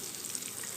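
Ginger garlic paste going into mashed tomato masala for egg dum curry, giving a brief, steady, close hissing sizzle with no voices.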